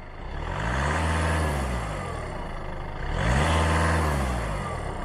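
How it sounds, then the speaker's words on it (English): A car engine is revved twice while idling during a battery and charging test, each rev a rising then falling roar of about two seconds, close and loud, with a brief dip back to idle between. "what will happen if I rev the engine a little bit"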